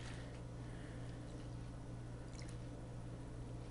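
Water and paydirt are worked in a small gold finishing pan, giving a faint, steady wet swish over a constant low hum. A few soft drips and splashes show near the middle.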